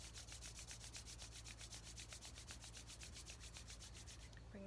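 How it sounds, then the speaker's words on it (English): Hands rubbing together briskly during a yoga exercise, a fast, steady rhythmic swishing of skin on skin, close and continuous for several seconds. "Rub your hands together."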